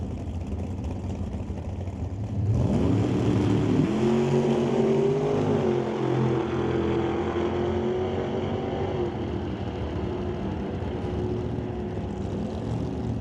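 A Firebird drag race car, raced at an NHRA Northwest National Open Series event, launches with a rising engine roar that shifts up and holds a loud, steady drone as it makes its pass, with no talking.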